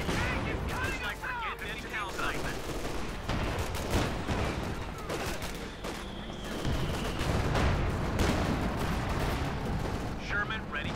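Light machine gun fire in a Company of Heroes 2 match, bursts of rapid gunshots mixed with explosions and battle noise, with a commentator talking throughout.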